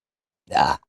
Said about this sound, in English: Oh, there's my burp.